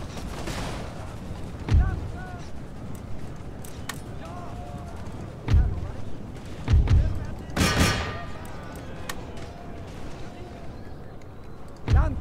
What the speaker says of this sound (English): Now I'll start shooting the general.